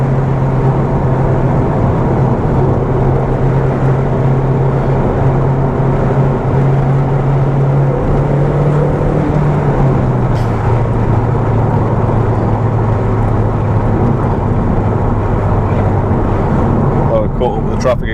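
Audi TT Mk1 accelerating on the road through third and fourth gear, a steady loud engine drone with a pitch dip at the gear change, wind buffeting over it and a voice talking.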